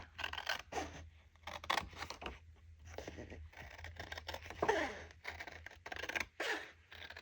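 Scissors snip through paper in short, irregular bursts of crisp cutting and rustling, close and fairly quiet, with no talking.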